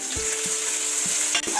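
Onions frying in a pan after the garlic has browned, a steady close sizzle broken by a few scraping knocks of a utensil stirring, with no talking.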